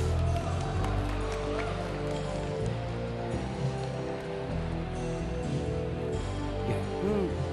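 Spectators at a StarCraft esports match applaud, a dense steady patter of clapping throughout, mixed with broadcast music and game sounds.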